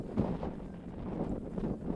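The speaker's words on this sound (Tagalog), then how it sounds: "Wait lang, mahangin eh." Gusty outdoor wind buffets a microphone, producing a low, uneven rumbling roar that surges and eases over two seconds, with no talking.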